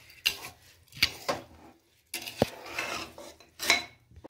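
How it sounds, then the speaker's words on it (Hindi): Rice stirred in a pot for potato and pea pulao, with a spoon making several distinct scraping clinks and knocks against the metal in an irregular rhythm, close and clear with quiet pauses between strokes. "ये देखो अब हम मिक्स कर रहे हैं"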